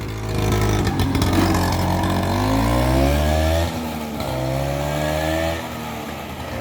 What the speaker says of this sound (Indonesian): melihat keberangkatan bis Sumbar menuju ke perantauan